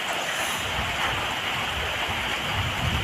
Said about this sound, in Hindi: बारिश लग रही है बहुत ज़ोरों से, 3 दिन से लगातार बारिश हो रही है